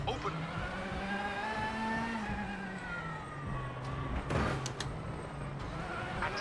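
A rally car engine in the video game WRC 8 drones and shifts pitch through gear changes, with a few sharp bangs, while a co-driver reads pace notes over it.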